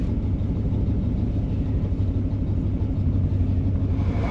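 A 1977 Chevrolet Corvette V8 running steadily at idle, with a loud, close, deep rumbling engine note throughout and no talking.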